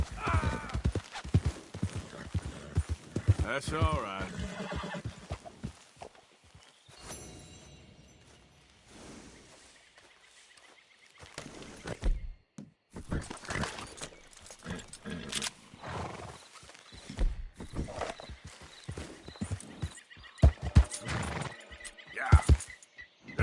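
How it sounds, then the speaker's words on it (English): In Red Dead Redemption 2, a horse whinnies and snorts while hooves clop intermittently, mixed with game ambience and a brief spoken voice. "Is that my horse?"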